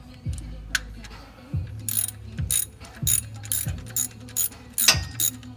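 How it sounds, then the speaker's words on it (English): A ratchet wrench tightens intake manifold bolts into a plastic TBSS intake on an LQ4 6.0 V8, giving repeated bursts of rapid pawl clicks in a steady rhythm, close and clear, with no talking. "I'm just gonna torque them to what I think is tight enough for this plastic."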